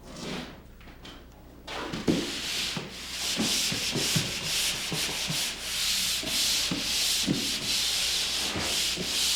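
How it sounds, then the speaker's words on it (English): Broad, scratchy rasping of a pole sander with 120-grit or finer screen sanding drywall, repeating in long back-and-forth strokes after a few quiet seconds at the start. "I start the sanding with a pole sander using a 120 grit or finer sanding screen or paper"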